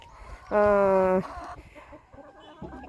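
Hens clucking on a small farm fed on bought feed, one loud harmonic squawk up front followed by softer scattered clucks and rustling close by.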